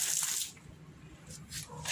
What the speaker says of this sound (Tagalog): Ito yung tubig natin. Nasa hose na.